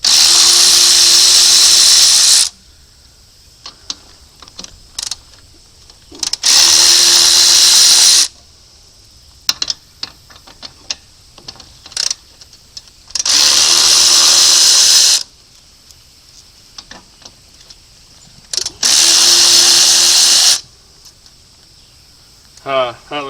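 A power tool spinning out simulated bead lock bolts from the wheels of a 1986 Chevy K20 truck, four loud whirring bursts of a few seconds each separated by quieter gaps with small clicks and handling noise.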